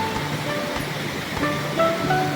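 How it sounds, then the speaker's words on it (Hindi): Rushing water from a waterfall on the Kheerganga trek pours in a steady broadband wash, moderately loud and close, with faint scattered tones over it and no talk. "झरना आ गया"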